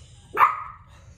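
A dog gives a single sharp bark on command, close and loud against a quiet background.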